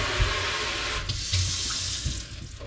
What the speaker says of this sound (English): I'm just cleaning out the sink right now.